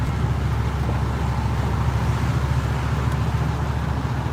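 Steady low road rumble and engine hum fill the cabin of a car driving along, a constant broadband roar without pauses or speech.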